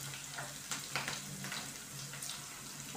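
Sliced onions and green chilies fry in a pan for cabbage bhaji, a faint crackling sizzle with scattered light pops and a low steady hum underneath.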